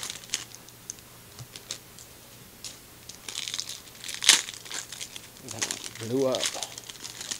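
Topps Walking Dead trading card packs are torn open, soft crinkling and ripping of foil wrappers under a person's talking, faint and close.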